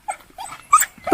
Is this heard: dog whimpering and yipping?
yes